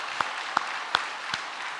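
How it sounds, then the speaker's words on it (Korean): Four sharp, isolated hand claps ring out at an even pace in a church, widely spaced over a low, steady room hiss, with no speech. "우리 장로님들에게 박수 한번 쳐주셔."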